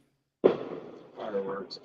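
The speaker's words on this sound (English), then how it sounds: "Fireworks." A single sharp firework bang goes off outside at a distance, followed by a brief decaying rumble and crackle.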